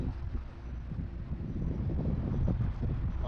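Outdoor wind in a Rajasthan village, blowing beside a cooking spot as a low, steady roar and rumble that swells slightly toward the end and continues throughout with no voices.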